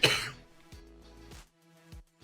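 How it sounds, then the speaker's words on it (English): A person coughs sharply once and then clears the throat in several short, quieter bursts, close to the microphone with silence between. "Sorry about the coughing, guys."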